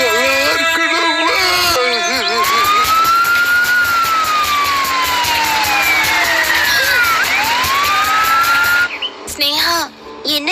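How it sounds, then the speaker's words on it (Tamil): An ambulance siren rushing toward a hospital wails loudly and continuously, its rising and falling tone sweeping up and down under steady road and engine noise before cutting off, followed by brief voices. "அந்த ஆம்புலன்ஸ் இவ்ளோ வேகமா ஹாஸ்பிட்டலுக்கு போகுதுன்னா"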